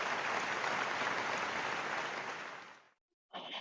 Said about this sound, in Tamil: பாருங்க, கைத்தட்டல் தராங்க.